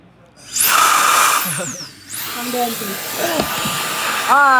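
A hair dryer blows in loud bursts, its whine starting, cutting out briefly, then resuming, with people talking over it and whistling tones at the start and end.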